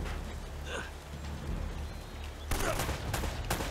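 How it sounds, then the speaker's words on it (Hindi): Gunfire in Uncharted: Drake's Fortune, a few separate shots early, then a louder cluster of bursts near the end over a low background rumble, with no speech. "पैर पे गोलियां मार रहा हूं मैं"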